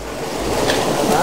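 Water rushes steadily along an open drain channel in Gilgit Baltistan, a close, continuous broadband roar filling the whole moment.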